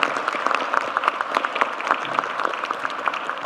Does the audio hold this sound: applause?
yes